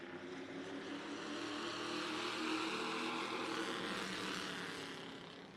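Junior spec late model race cars roar around a third-mile oval track at Irwindale Speedway, a dense, sustained engine drone that swells louder mid-pass and eases off at the end, with no voices.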